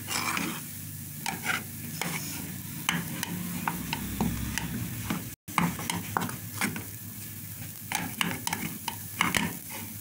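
Homemade play dough mixture being stirred in a pot, a continuous close scraping and squelching with repeated clicks of the utensil against the sides, broken by one brief gap.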